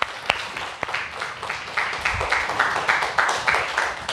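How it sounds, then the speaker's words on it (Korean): A church congregation claps during a sermon, beginning with a few scattered claps and growing into steady, moderately loud group applause in a reverberant hall. "우리 박수의 영광 올립시다."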